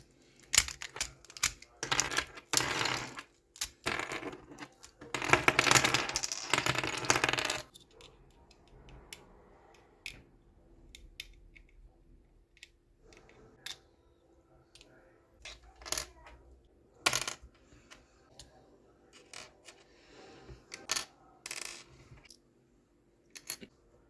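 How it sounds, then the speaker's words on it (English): Plastic pieces of a GTS3M speed cube clattering as it is taken apart down to the core; busy clicking and rattling at first, then sparse sharp clicks and small drops, close and fairly quiet. "The first step I'm going to be doing is taking apart this cube down to the core."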